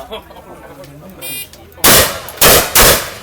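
Three loud, sharp shotgun blasts go off in quick succession close by at a speed shooting competition, following a short electronic start buzzer and quieter background chatter.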